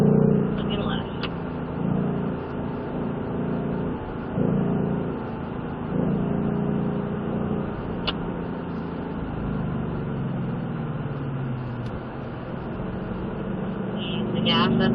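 A Ford Mustang powers uphill over a rise on a race track, its engine droning steadily at speed as heard from inside the car, with someone talking over it throughout.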